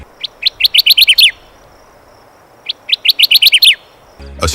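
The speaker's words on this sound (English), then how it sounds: "Meet the Kirtlands Warbler." A Kirtland's warbler sings two loud, clear bursts of rapid chirping notes close by, separated by a brief pause, over faint background hiss.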